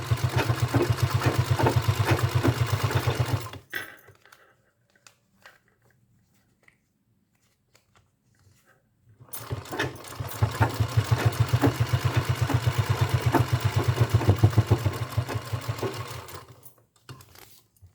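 A sewing machine stitches a bag's purse in a fast, steady mechanical run. It stops for several seconds, leaving only faint handling sounds, then starts stitching again.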